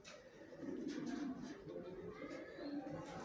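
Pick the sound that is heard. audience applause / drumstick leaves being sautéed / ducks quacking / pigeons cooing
pigeons cooing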